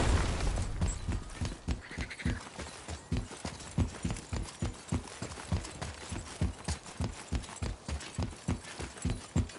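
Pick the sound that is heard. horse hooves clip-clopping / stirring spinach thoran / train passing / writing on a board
horse hooves clip-clopping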